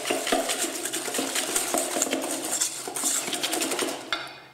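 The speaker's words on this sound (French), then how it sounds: "on va mettre 6 jaunes d'œufs et 125 g de sucre qu'on va blanchir" Six egg yolks and 125 g of sugar are whisked together in a bowl for crème anglaise, a fast, continuous metallic clatter of the whisk against the bowl, close and busy, with no voices.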